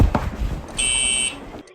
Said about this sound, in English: I heard the fire alarm going off.